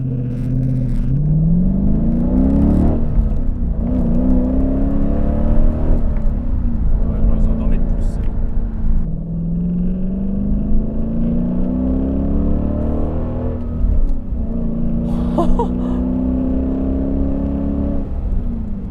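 Dodge Challenger V8 muscle car rumbling steadily while driving, its engine note rising and falling through several smooth revving sweeps, with a voice talking over it throughout.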